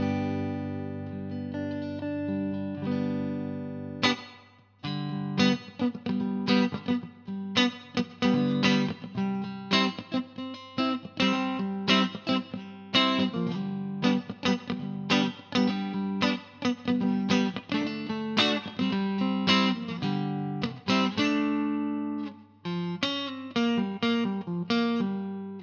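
A 2021 Fender Custom Shop heavy Relic electric guitar plays a continuous melodic passage of sustained chords and picked notes, with effects and slight drive, loud and close, with no talking.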